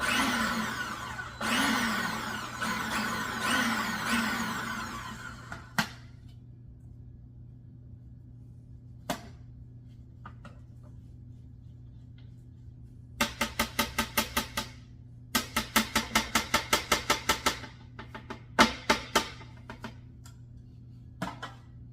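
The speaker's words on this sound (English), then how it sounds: "Add the garlic. And blend." A kitchen blender whirs loudly as it purees chickpeas for hummus, running steadily for several seconds and then stopping, followed by short pulsed bursts and rapid clattering spins, all close with no voices.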